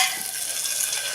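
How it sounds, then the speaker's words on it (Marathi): Crushed garlic cloves with cumin sizzle steadily in hot oil in a pan, a continuous close frying hiss with faint stirring, no voices. "लसूण आपण थोडासा परतून झाला की गॅस थोडा आता मी कमी करून घेते"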